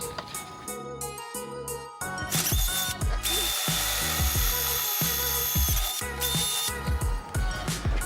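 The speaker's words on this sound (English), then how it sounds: "so gotta go re-drill them bigger" A power drill whines loudly, revving in repeated bursts as it bores larger screw holes for a motorcycle phone mount, close up with no talking.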